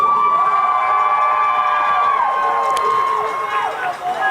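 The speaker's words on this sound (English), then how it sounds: "Crowd getting fired up" Crowd noise rises at a youth football championship game, with loud cheering and shouting from the stands under steady tones and occasional whoops.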